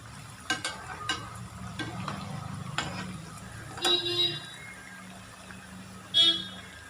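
Aathur vada batter fries in hot oil with a low, continuous bubbling sizzle, punctuated by sharp ticking clicks of a utensil and two brief louder hissing bursts.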